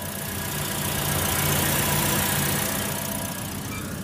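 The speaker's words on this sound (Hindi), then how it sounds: "बहुत ही साइलेंट इंजन है" A Toyota Yaris V automatic's 1.5-litre four-cylinder petrol engine idles with a steady, even, fairly quiet hum, holding a constant level throughout with no one speaking.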